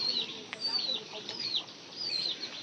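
A chicken clucks in short repeated calls at a rural yard, moderately near against a soft background hiss.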